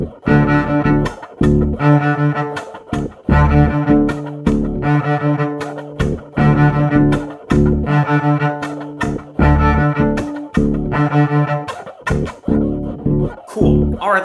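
A cello plays a 16th-note chop pattern at full tempo, mixing bowed arco notes with scratchy percussive chops in a fast driving rhythm, close and alone.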